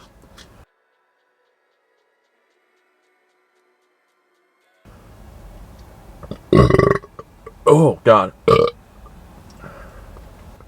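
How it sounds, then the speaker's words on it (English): A giant burp from a man after a big meal on a cheat day: a long, loud, deep belch broken into several gurgling bursts after a stretch of near silence, followed by a brief exclamation. "I just had a giant burp"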